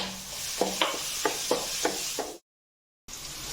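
Green chillies and chopped beans sautéing in a pan over a medium flame for egg fried rice: a steady sizzle broken by about six rhythmic stirring scrapes, cutting out briefly before the sizzle resumes.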